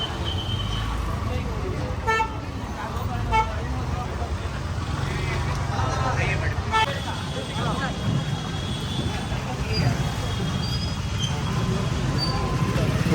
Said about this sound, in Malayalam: എല്ലാ ഗല്ലിയിലും വണ്ടി പോകുന്നുണ്ട്.